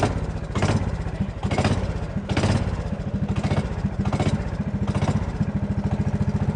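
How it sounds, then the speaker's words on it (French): Go-kart engines at a karting track idle and rev in a loud, steady clattering drone, with rhythmic pulsing swells of small engines running close by. "Allez, on va mettre les moteurs en route."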